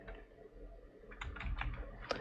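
Computer keyboard typing into a Windows PC search box, a few soft clicks near the end over a steady low room hum, quiet and alone.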